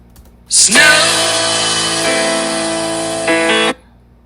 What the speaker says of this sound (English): sorry that alarm went off